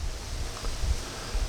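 Wind gusting outdoors at a boat restoration site, a low rumbling buffet against the microphone that swells and fades in short gusts, with no talk.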